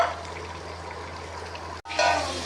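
Water poured into a pot of browned beef and potatoes during cooking, a steady hiss and trickle over a low kitchen hum, a brief pause, then a brighter, louder splash of liquid.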